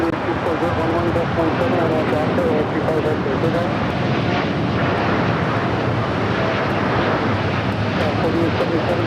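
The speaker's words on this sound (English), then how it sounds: "This is Air Canada 788 taking off to Toronto on a 787-9 Dreamliner" An Air Canada Boeing 787-9 Dreamliner taking off from LAX makes a broad, steady jet rumble at moderate distance, continuous for several seconds, with voices talking over it.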